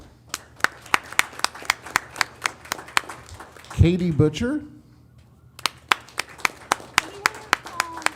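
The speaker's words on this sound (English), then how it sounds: "Clap anyway." A few people clap for students at a school board meeting: sharp, separate hand claps in a brisk, uneven rhythm, close and distinct, pausing while a voice speaks briefly in the middle before resuming.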